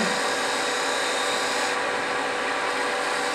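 A bevel-edged turning chisel refines a beaded joint on a wooden cigar ashtray spinning on a lathe, giving a dense, steady scraping hiss that stays loud and unbroken from start to finish, with no talking.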